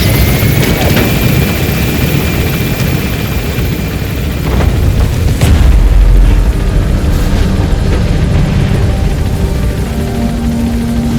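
Helicopter lifting off in the video game Metal Gear Solid V, a loud continuous rotor roar with heavy low rumble that swells briefly midway and holds steady throughout, with no talk over it.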